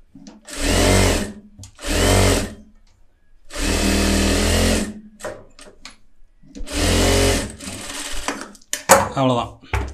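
A sewing machine runs stitches around lining fabric in a tailoring lesson, in four loud bursts of fast whirring that stop and start, with a person talking in the gaps between runs.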